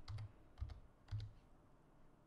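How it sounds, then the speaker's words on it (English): Keys tap on a computer keyboard in three quick short bursts, faint and close, with quiet pauses between them and no voices. "let's type in a new one"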